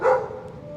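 A single short bark from one of several small dogs near Tiburtina station in Rome. It is sharp at first, then trails off into background noise.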